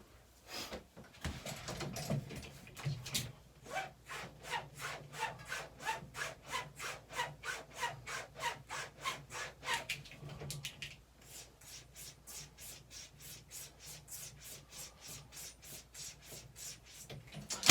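A straight razor, an MK31, is stropped: an even back-and-forth series of soft rasping strokes, close and fairly quiet, with the strokes growing fainter and quicker near the end.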